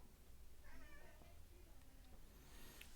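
A cat vocalizes softly during a quiet guided breathing exercise, a drawn-out, wavering meow-like sound over a low steady background hum.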